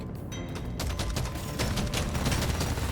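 Sustained assault rifle fire in a top-down dwarf video game, dense rapid bursts running steadily throughout and loud against a busy game backdrop.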